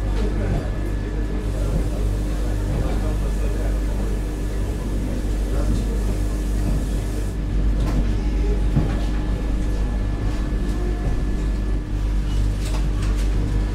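Inside the Howrah–Bhagalpur Vande Bharat Express, a constant low rumble and hum of the moving train fills the carriage, with voices talking over it and occasional light clunks.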